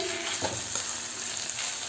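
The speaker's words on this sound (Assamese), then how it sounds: "এনেকৈ ঘনে ঘনে লৰাই ভাজি থাকিব ভাজিখিনি ভাজি থাকোঁতে গম পাব ছাইডৰ পৰা তেল ওলাব ল'লে গম পাব" Beetroot bhaji frying in oil in a pan, a steady close sizzle with a few scraping stirs of the spatula and no talk.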